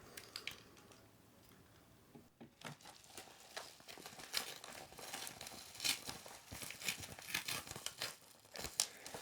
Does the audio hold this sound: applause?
no